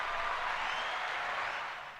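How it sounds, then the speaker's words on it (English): Canned applause from a sound effect button, a steady wash of clapping that fades slightly at the end, with no voices over it. "He didn't accidentally hit the applause"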